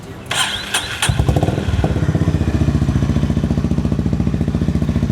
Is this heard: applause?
no